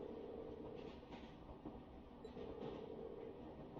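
A train running in the video game Trails of Cold Steel: a steady, low rumbling drone of rolling wheels and carriage noise, continuous and fairly quiet with no talk.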